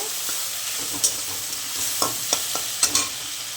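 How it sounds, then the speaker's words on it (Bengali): Shrimp coated in salt and turmeric fry in hot oil, a close crackling sizzle punctuated by several sharp spatter pops and stirring clicks, without speech. "প্রথমে হচ্ছে চিংড়িটাকে এরকম করে তেলের উপরে দিয়ে নুন হলুদ মাখিয়ে ভেজে নেব।"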